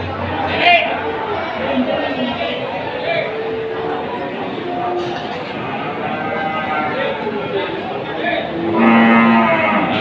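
Cattle, including pregnant cows, moo repeatedly amid a busy crowd at the Wirosari cattle market in Grobogan, Central Java, with chatter and voices all around and one long low moo standing out near the end.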